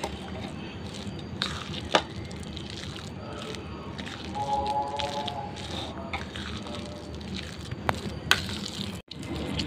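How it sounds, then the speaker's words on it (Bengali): Panipuri filling being mixed by hand with salt, giving soft wet squishing and kneading sounds close by, with a few sharper taps and clicks scattered through. "লবণ দিয়ে ভালো করে মাখিয়ে নিব।"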